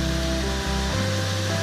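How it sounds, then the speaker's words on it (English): Falls Creek Falls, a waterfall near the Mayo River, gives a steady broadband roar of rushing water, dense and continuous throughout with no voices. "So that is Falls Creek Falls."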